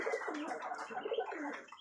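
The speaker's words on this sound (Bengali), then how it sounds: "তো এর ফাঁকে কবুতর আছে, দেখছেন কবুতর।" Pigeons coo close by in a soft, repeated rolling murmur with no other sounds.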